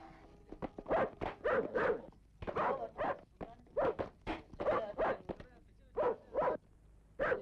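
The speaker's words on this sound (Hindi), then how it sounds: "इनके पीछे कुत्ते भौंकते रहते हैं" Dogs barking in a Hindi horror action film scene, repeated loud barks and yips in close rhythmic bursts with brief pauses between them.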